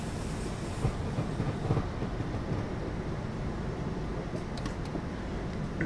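An S6 S-Bahn train in Train Simulator 2019, running as a double unit from the main station, rolls along with a steady broadband rumble and faint wheel clatter, with a brief high hiss at the start.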